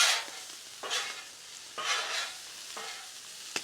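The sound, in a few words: corn sizzling and being mixed on a Blackstone griddle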